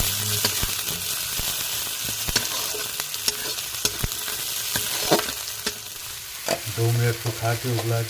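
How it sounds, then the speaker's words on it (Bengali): Green peas frying in a pan for chirer polao, a steady close sizzle broken by sharp scrapes and clinks of a stirring spoon against the metal, with a brief tonal clatter near the end. "মটরশুঁটিগুলো একটু সময় ধরে ভেজে নেবো যাতে হালকা সিদ্ধ হয়ে যায়।"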